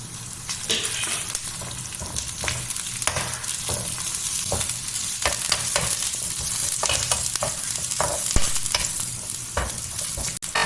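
Grated coconut and curry leaves fry in a pan with a constant soft sizzle, broken by repeated scraping clicks of a spoon stirring them, close up and with no talking.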